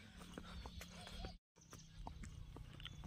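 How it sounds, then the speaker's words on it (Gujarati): A mare walks on a hard surface with steady, distinct clip-clop hoofbeats in a regular rhythm, fairly close and moderately loud, with a brief dropout midway and light outdoor background noise. "ઘોડી"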